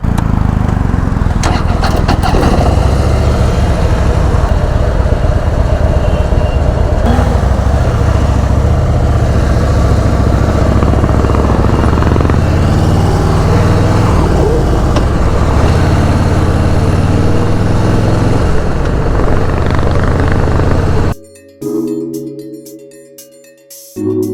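BMW touring motorcycles out on a ride: a loud, continuous engine drone with wind rush that rises and falls slightly over about twenty seconds, then cuts out abruptly near the end.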